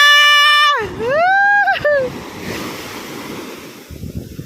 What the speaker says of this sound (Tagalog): Yan oh, lalaki ng alon.